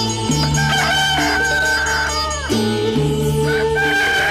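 A rooster crows in two long drawn-out calls, the second starting about halfway through, loud and close over a steady harmonic background.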